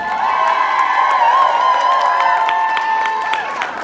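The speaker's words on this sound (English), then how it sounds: "give a big round of applause for your court." A crowd at a New Year event cheers loudly for a presented court: sustained shouts and whoops, with scattered clapping mixed in.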